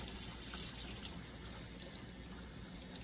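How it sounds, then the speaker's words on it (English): Warm water trickles and splashes softly while doll hair is rinsed in a sink, a faint continuous wash with a small splash near the start, alone without talk. "let you enjoy the water sounds again for a few seconds"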